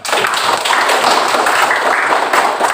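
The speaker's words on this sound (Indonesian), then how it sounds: "Jadi tepuk tangan dulu untuk kedua teman yang menjawab." A classroom of students claps their hands together in a dense, continuous burst of applause, loud and close, lasting about three seconds without speech.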